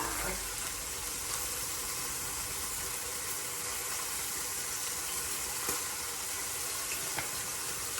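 Pot roast sautéing in an Instant Pot, seasoned with garlic and smoked paprika, makes a constant hissing sizzle with light watery crackle and a couple of faint ticks; no voices are heard.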